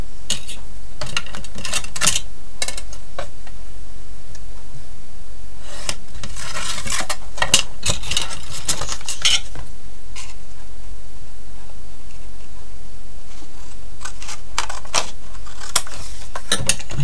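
Scissors cut a piece of paper for a 3D rosette card, making crisp, irregular snips and rustles in scattered bursts at close range, with no talking.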